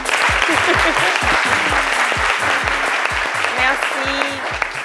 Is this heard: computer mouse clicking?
no